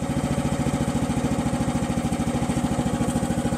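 A gas-powered Kymron YH14 mini excavator idles close by, its engine a steady, loud, even chugging pulse that holds for the whole stretch with no one talking.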